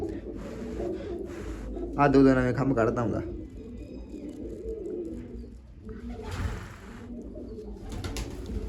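Pet pigeons, recently dyed black and growing new feathers, coo softly and intermittently close by while someone talks over them.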